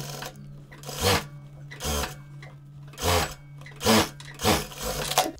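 A sewing machine stitching the hem of a hospital uniform in short, loud bursts of rapid whirring, five runs separated by brief pauses, close and alone.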